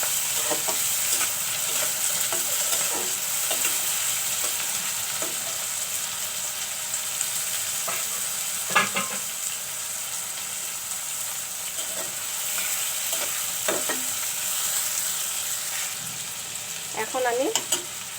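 Tomatoes frying in a pan with puti fish give a continuous close sizzle and hiss, with intermittent clinks and scrapes of a spoon stirring and a brief rattle near the end.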